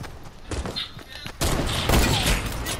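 Hunting rifle fire in a video game comes as a quick burst of loud, sharp shots with a busy game soundscape underneath.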